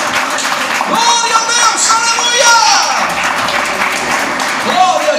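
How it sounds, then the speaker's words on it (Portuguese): A Portuguese-speaking church congregation claps during a worship service while a preacher talks and exclaims over the top, with the clapping sitting under the loud voice throughout. "Bate palmas e louva aquele que fica."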